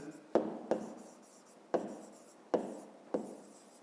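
Hand-writing a math exercise: a pen or chalk strikes the surface in five distinct taps with scratchy strokes between, close and fairly quiet.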